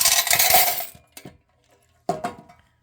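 Coins are pulled from a claw machine, spilling in a loud metallic clatter, followed by a few sparse clinks and a second short jingle of coins.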